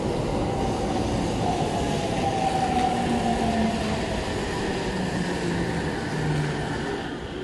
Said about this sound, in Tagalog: Simple train lang to dito sa amin.